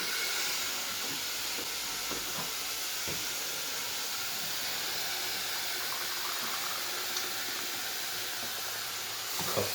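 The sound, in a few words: curry pot bubbling and hissing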